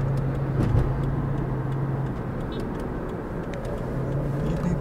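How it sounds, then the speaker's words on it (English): A truck drives past with a steady, fairly loud engine drone and road rumble, holding an even level for several seconds with no speech. "Watch out for Mr. Truck there"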